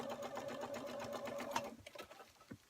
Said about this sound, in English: you sew right next to that line